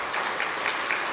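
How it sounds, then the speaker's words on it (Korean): A church congregation claps in thanks during a Sunday service, a brief, moderately loud burst of steady applause with no voices over it. "그분들에게 한번 감사의 박수 한번 올리고요."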